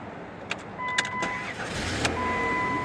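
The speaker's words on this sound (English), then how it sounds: "I am going to start the car up" A car engine starting inside a parked camper van, a few clicks followed by the engine catching and settling into a steady hum, heard close with no talk.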